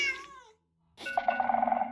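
In Minecraft, an amethyst block set off by a sculk sensor rings out with a clear, shimmering chime that wobbles and sustains for under a second, after a brief softer tonal sound and a pause.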